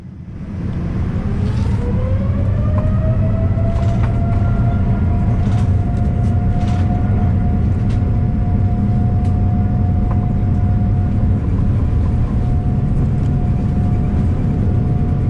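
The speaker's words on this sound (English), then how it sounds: "it wasn't long before we started the long takeoff run for the flight to Europe" Saudia airliner on its long takeoff roll at a huge airport, bound for Europe: loud, steady engine roar heard from inside the cabin, with a whine rising in pitch over the first seconds and then holding level under constant rumble.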